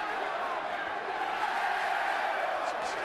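A boxing arena crowd at a professional fight gives a steady, diffuse roar of reaction, with a commentator's voice running over it.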